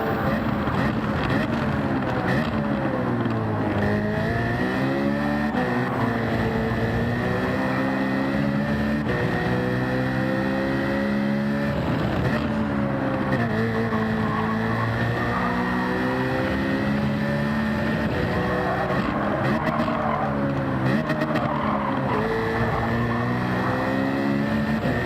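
A race car engine in Gran Turismo 7 at Yas Marina revs high in fifth gear, a steady loud drone whose pitch climbs and dips repeatedly across the run without a break.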